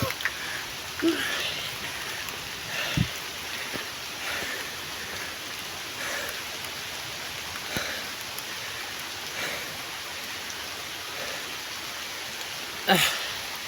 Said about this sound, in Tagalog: Umuulan kasi.